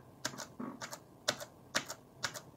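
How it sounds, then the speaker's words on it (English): Crisp, clacky keystrokes on a Gamdias Hermes M3 mechanical gaming keyboard, with several keys pressed at once in uneven bursts, close and fairly quiet with no talking. "I'm pressing multiple keys at one time"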